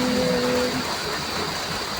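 Steady heavy rain hisses evenly during a rainy spell in a Filipino home, loud and unbroken, with a faint voice briefly underneath at the start.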